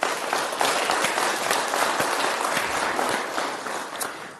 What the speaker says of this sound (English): Please let's hear a round of applause for our panel